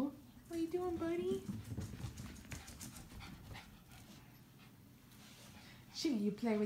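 Puppy, a Cavachon around nine weeks old, whimpering with high wavering whines and panting close by, brief yelps at the start and end, while a person talks over it indoors.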